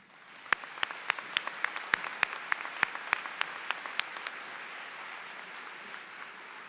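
An audience at a Ferris State University spring commencement ceremony applauds the student alumni ushers, with a steady wash of clapping and sharp individual claps standing out early before the applause thins and fades.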